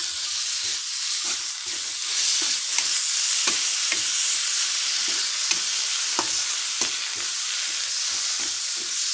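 Tomato and onion sauté with chilli and coriander powder in a pan for a Malabar-style egg roast. A loud, steady sizzle hisses throughout, broken by sharp spatula scrapes and clicks as the mix is stirred. No voices are heard.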